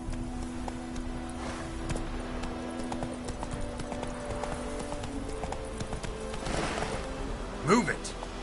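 Horse hooves clip-clop steadily in The Witcher 3 video game, a soft mid-distance gait running the whole time beneath ambient game sound, with a brief louder burst near the end that may be a whinny.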